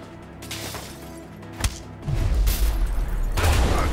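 A gunshot in the video game A Way Out, one sharp close crack followed by a loud rumbling burst and ongoing chaotic game noise.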